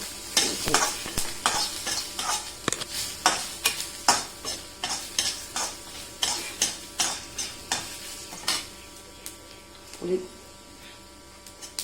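Onions and garlic with dried red chillies are being sautéed in a pan, a spoon scraping in regular strokes about twice a second over a quiet, steady sizzle and a faint background hum.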